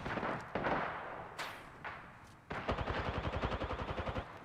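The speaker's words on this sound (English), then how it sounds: "The enemies are shooting at me." Video-game enemy gunfire crackles close and loud, a few separate blasts and bursts, then a fast rattling burst of rapid automatic fire near the end, with no talk.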